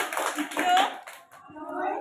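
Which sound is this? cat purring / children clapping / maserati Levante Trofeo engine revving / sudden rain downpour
children clapping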